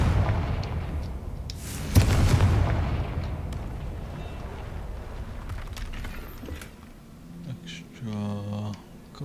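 A Confringo explosive spell in the Hogwarts Legacy video game lands with a deep rumbling blast around two seconds in, a long fading roar, then softer game effects and a brief tonal chime near the end.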